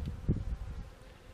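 Honey bees hum at an open hive during an inspection, a brief, faint, low buzz with no talking.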